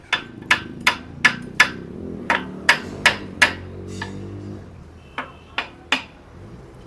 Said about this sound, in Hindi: ये प्लेटों के बोल्ट खोले जा रहे हैं।